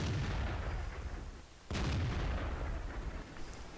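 A tank cannon fires once in a video game, a single sharp, loud blast partway through, set against a dense, steady rumble of engine and battle noise.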